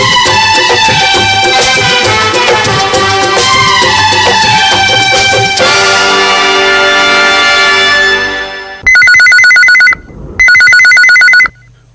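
A telephone rings for a radio phone-in request show on Chhattisgarh Akashvani, two loud electronic bursts heard alone after a stretch of music ends.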